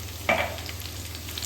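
Sesame seeds sizzling in hot oil while making green corn chevdo, a brief burst of crackle as they hit the oil, then a quieter steady fizz.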